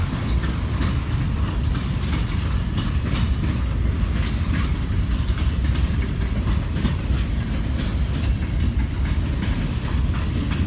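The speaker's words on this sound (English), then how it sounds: "here come the locomotives" Norfolk Southern freight locomotives roll past close by in a loud, steady rumble, with wheels clacking over rail joints throughout.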